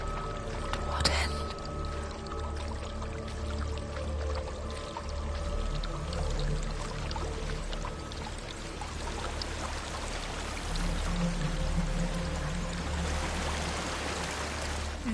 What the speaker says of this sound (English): There's a waterfall.